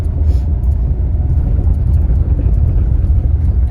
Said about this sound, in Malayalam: അതാ വണ്ടി ഇങ്ങോട്ട് തിരിച്ചേ.